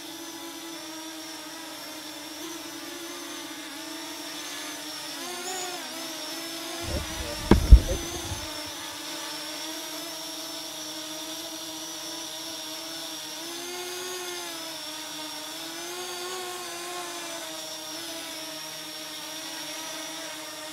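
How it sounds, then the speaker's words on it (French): A Parrot Anafi drone hovers near the castles of Lastours, a steady high-pitched buzzing whine that holds throughout with slight pitch shifts, interrupted midway by a brief burst of handling thumps. "Il fait vraiment pas beaucoup de bruit par rapport aux autres drones"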